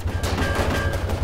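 Steady rattling gunfire in the Cortex Command side-scrolling game, a continuous loud burst of rapid shots with a low rumbling bed underneath.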